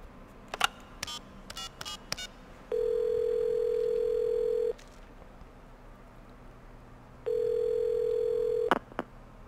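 A telephone in Metal Gear Solid V: The Phantom Pain sounds two long, steady ringing tones, each about two seconds, separated by a pause, with faint clicks and handling noises around them in a quiet room.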